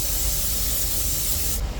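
An aerosol can spraying food placed in silicone air fryer liners, a loud continuous hiss held close for nearly two seconds before cutting off abruptly, with no talking.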